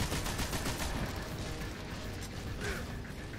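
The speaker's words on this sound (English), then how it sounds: "as you see there, the enemies are shooting at me" Enemies firing guns at the player in the Destiny video game during a Nightfall strike, with quiet rapid mechanical bursts of shots and rattling weapon noise, continuous and somewhat distant, with no talking.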